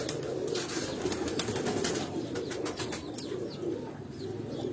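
Sialkoti pigeons coo steadily on a rooftop, their soft repeated calls layered with chirps and occasional wing flaps under a constant outdoor hiss.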